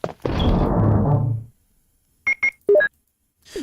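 Steam notification beeps chiming over Resident Evil (1996) gameplay: a low rumbling burst first, then after a short silence a few quick, loud electronic beeps, one pair of tones followed by a single rising blip.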